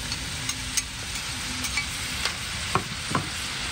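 Squash sizzles steadily in a hot frying pan during native countryside cooking in the Philippines, with a few light scraping stirs and small clicks over the constant hiss.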